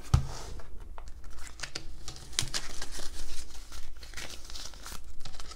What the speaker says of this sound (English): So I'll go ahead and I'll just find that number so that way I can stuff that envelope.